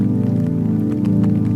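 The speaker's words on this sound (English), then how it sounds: "a steady, silver curtain pouring from the darkening sky, tapping gently against the clinic windows" Steady rain patters continuously against windows, a dense even hiss with soft tapping and no voices.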